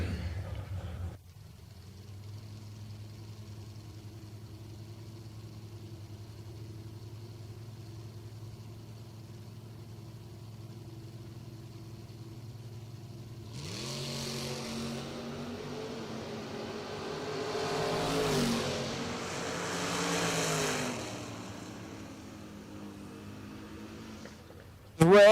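A Mazda RX-7 drag race car sits idling with a low, steady hum, then its engine revs up in several rising and falling bursts toward the end.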